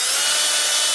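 Sandpaper rubs a wooden dowel in a steady, close, bright hiss that goes on without a break and without talk.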